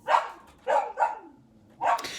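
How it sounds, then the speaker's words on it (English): A dog barks in short, sharp yips, one alone, then two in quick succession, a gap, and one more, moderately close against a quiet background. "Only a dog was barking, like the one you're listening to right now."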